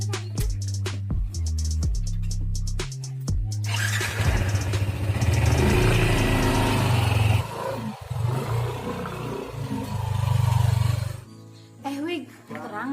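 A motorcycle in a rural Sundanese village, its engine roaring loudly for several seconds in a rough broadband rumble, with people talking before and after.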